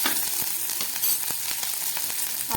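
Garlic, ginger and five-spice sizzling in hot oil, a dense crackling fry peppered with sharp pops and stirring scrapes, close and steady throughout with no talk.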